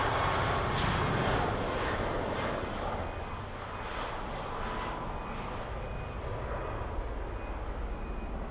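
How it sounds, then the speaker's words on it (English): A Ryanair airliner bound for Tenerife takes off down the runway at Birmingham Airport, a steady, broad jet roar that swells early on and then holds, continuous and fairly distant, with no voices over it. "just going down the runway now was that Ryanair"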